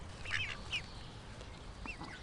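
A mother duck quacks in a few short, raspy calls, grouped near the start and again near the end, close by and moderately loud over a low outdoor rumble.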